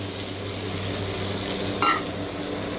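Eggplant sizzles in fish-frying oil on a high gas flame, a close, softer, steady crackle with a brief metallic clink of a utensil partway through and no speech.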